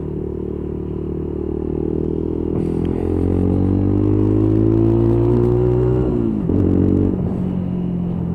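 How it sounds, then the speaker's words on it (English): A Lexmoto Tempest motorcycle engine held at steady high revs to warm it up, a loud close drone that rises gradually in pitch, dips briefly, then picks back up. "try and get the revs to get this engine nice and hot"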